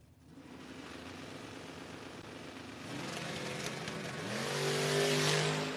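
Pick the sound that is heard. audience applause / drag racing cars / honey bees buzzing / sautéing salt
drag racing cars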